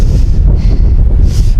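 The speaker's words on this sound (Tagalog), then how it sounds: "Mahangin pa." Strong cold wind buffets the microphone at a mountain campsite in Malico, a steady loud low roar with occasional gusty swells and no voices.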